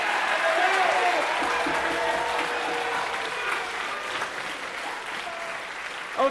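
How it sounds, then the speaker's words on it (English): An audience at a high school musical performance of Peter Pan claps loudly for Tinkerbell, a full, sustained round of applause with voices calling out over it. "No, better still, clap your hands"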